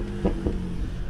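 Two quick exhaust pops crackle over a BMW's steady low engine drone in first gear, close and fairly loud.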